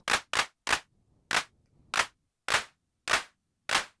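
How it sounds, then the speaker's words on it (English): Eight synthesized claps made in Max, sharp and bright with short tails, firing in a steady loose rhythm with small gaps; close, loud and alone with no talk. "And we have some nice claps."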